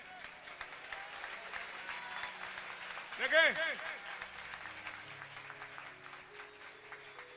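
Audience applause at a gospel meeting, moderate clapping under a speaking voice, with a brief louder swell midway as a preacher talks over it.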